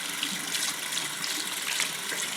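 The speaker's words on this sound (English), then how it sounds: "So I'm going to go ahead and rinse this off first with water before I wash with soap." Tap water running steadily over hands being rinsed at a sink, a continuous close hiss and splatter with no talking.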